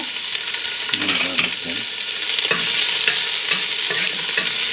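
Peppers and onions fry in a pot for a Guyanese metemgee, giving a steady close sizzle with scraping stir strokes throughout.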